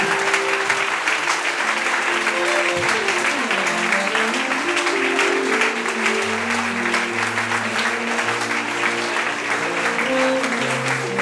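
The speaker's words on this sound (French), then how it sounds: "Est-ce qu'on peut acclamer très fort la présence de l'Esprit de Dieu?" A church congregation applauds loudly and steadily for the whole stretch, a dense wash of clapping with music running underneath.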